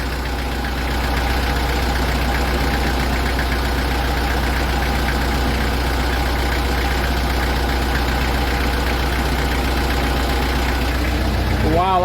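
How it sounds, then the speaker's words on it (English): An engine running steadily with its gearbox swapped, a loud, continuous idle with a constant low drone and a fine mechanical clatter throughout, rising slightly in the final second. "Well, my engine's up and running"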